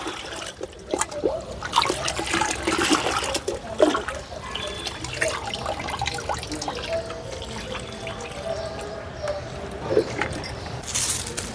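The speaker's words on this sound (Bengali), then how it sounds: "এবার জলের সাথে মিশিয়ে এটা দিতে হবে এখানে এক বালতি জল রয়েছে জলের মধ্যে মিশিয়ে দিলাম" Kitchen waste being mixed into a bucket of water on a rooftop garden, with sloshing and splashing water in uneven bursts up close, and a voice talking faintly at moments.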